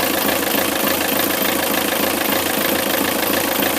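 A Yanmar 4JHE diesel engine idles at about 1000 RPM aboard a 25-foot trawler on a cold day, a loud, steady, even chugging throughout with no talk.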